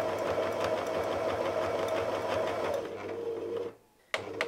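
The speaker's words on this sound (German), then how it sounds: "Mit diesem Zickzackstich nähen wir bis zu unserem Auge." A domestic sewing machine runs steadily while stitching a narrow zigzag stitch on a beginner's quilt appliqué, humming with a fast rhythmic whir before stopping abruptly, then a brief click.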